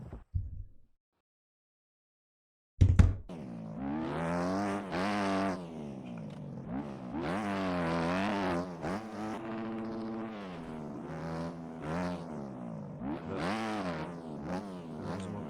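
A motocross bike engine in the MX Bikes video game during a supercross race revs up and down in repeated rising and falling whines after a short silence, loud and alone with no voices.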